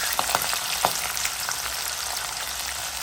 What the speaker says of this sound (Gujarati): તો હવે આપણે વાલના દાણા નાખી દઈશું, તુવેરના દાણા,